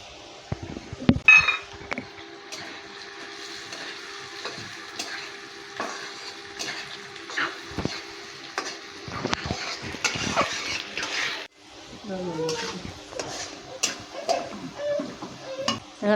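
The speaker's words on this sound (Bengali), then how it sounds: "এর মধ্যেই মুগ ডালটা ভেজে নেব" Moong dal is stirred as it fries in a wok, giving repeated scraping and clattering strokes of a spatula over a soft, continuous sizzle close at hand.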